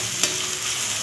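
Coriander and chopped tomato sautéing in oil for a fish gravy: a close, steady frying hiss with one quick utensil scrape near the start.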